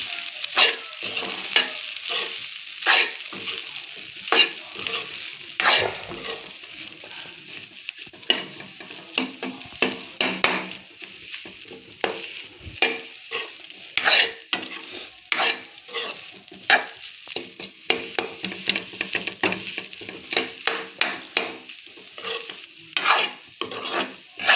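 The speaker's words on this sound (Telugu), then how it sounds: "కొంచెం బాగా ఫ్రై చేసుకున్నాను." Homemade egg fried rice, seasoned with chicken masala, is stirred and tossed vigorously in a hot pan for a long stretch, with rapid scraping strokes over a constant crackling sizzle and no voices.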